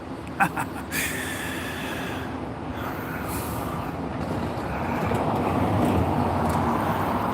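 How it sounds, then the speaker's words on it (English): A Scania bus pulls away from a stop in Ayr, its engine rumble broad and fairly loud nearby, swelling steadily toward the end after a couple of brief knocks at the start. "There's the 585 departing for Ardrossan. Scania and Viral 400."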